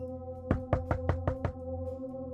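Five firm knocks on a wooden door in a quick, even series, close and solid, with a steady low hum underneath.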